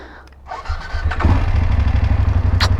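A BMW F850 GS motorcycle engine cranks briefly and catches on the first try, settling into a loud, steady, throbbing idle close by, with a short higher-pitched mechanical sound near the end.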